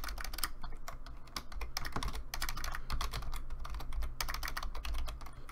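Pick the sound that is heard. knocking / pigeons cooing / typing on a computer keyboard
typing on a computer keyboard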